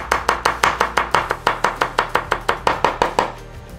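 A knife chops garlic on a board in quick, even strokes, about twenty crisp close-up hits in a steady rhythm with no talking.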